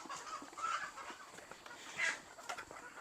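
Black Australorp chickens in a breeding pen cluck in a soft, scattered chorus, with brief louder calls rising now and then over steady barnyard background noise.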